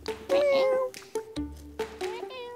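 A cat meows several times at close range, drawn-out tonal calls spread across a few seconds, with voices talking around it during a relaxed barbecue gathering.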